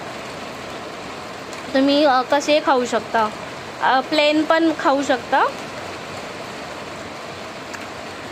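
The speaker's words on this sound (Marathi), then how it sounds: "खूप पाऊस आहे, तुम्हाला आवाज येतच असेल" Heavy rain keeps up a steady, broad hiss in the background throughout, while a person talks over it in two short bursts near the middle.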